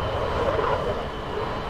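A jet aircraft in Microsoft Flight Simulator gives a steady, loud engine roar that drones on without a break, with no voices.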